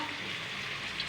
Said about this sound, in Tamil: எண்ணெயிலே நல்லா வணங்கிக்கலாம்